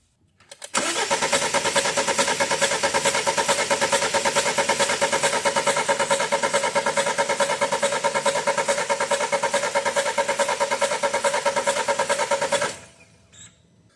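A 2013 BMW 528 with the N20 engine cranks steadily for about twelve seconds without catching, a loud, even, rhythmic starter churn that stops abruptly, heard close with no talking.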